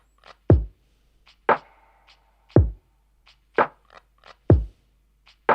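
A slow, loose lo-fi drum groove with deep thumping kicks and crisp snare and hat hits, falling slightly off the grid in a relaxed, swung rhythm.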